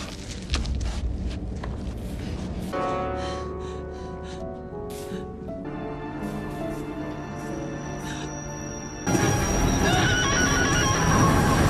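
A speeding, out-of-control passenger train in a film rumbles over a tense score as metallic squeals and clatter build, then surge into a louder, harsher roar near the end.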